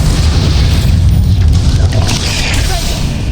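A Bombarda spell explodes in Hogwarts Legacy, a loud, deep boom with rumbling low end that sustains through the moment amid battle noise.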